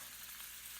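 Food fries in a pan during home cooking, a soft, continuous sizzle with faint hissy crackle that stays even and quiet through the short stretch, with no speech.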